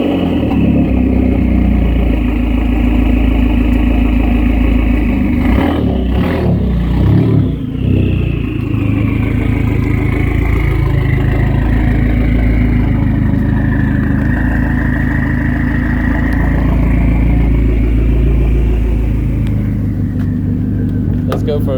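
A Dodge SRT-4 with a newly fitted exhaust idles loud and close beside a garage, a deep steady rumble with a brief rev blip, while people talk over it.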